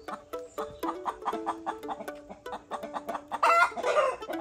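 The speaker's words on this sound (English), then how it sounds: "So my mum told me that this noise means they've laid an egg." Hen clucking in a rapid, repeated rhythm after laying an egg, rising into a louder, drawn-out cackle near the end; close by and otherwise alone.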